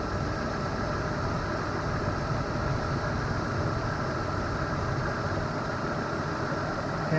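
A BMW engine idles steadily and close during a cooling system test with the thermostat open, giving a constant, even hum with a slight vibration throughout and no voices.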